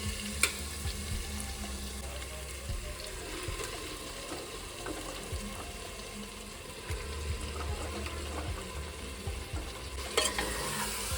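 Meat frying in hot oil in a home kitchen pan, a low, steady sizzle running throughout with faint clinks and stirring sounds, no one talking.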